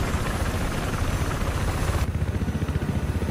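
A helicopter in the Battlefield 4 multiplayer Conquest map Hammerhead roars with a loud, steady engine drone and rhythmic rotor chop that grows more pulsing toward the end.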